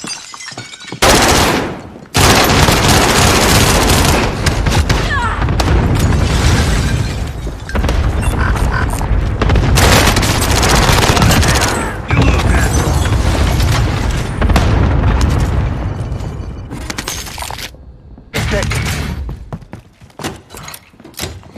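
Cluster strike explosions tear through a Call of Duty: Warzone match, a long loud run of heavy booms and crashing blasts with brief gaps, close and overwhelming.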